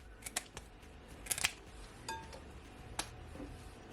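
Fresh scallion and thyme are cut with a knife or scissors at a kitchen counter, giving a few sharp, quiet snips and clicks spread irregularly over a faint room background.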